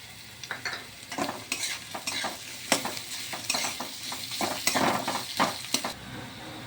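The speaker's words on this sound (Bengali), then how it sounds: "পেঁয়াজ কুচিটা দিয়ে দিচ্ছি।" Chopped onions with crushed garlic sizzling in a frying pan, a close continuous crackle broken by repeated scraping stirs and clinks of a utensil against the pan.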